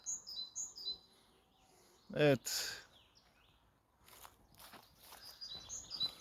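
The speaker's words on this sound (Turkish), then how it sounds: "Şu kuş sesini duyar mısınız? Bize resmen şu an eşlik ediyorlar." Birds chirp and tweet outdoors on a hike in Kızılkat canyon at Kavaklıoluk near the start and again at the end, with a brief spoken word and some rustling steps in between.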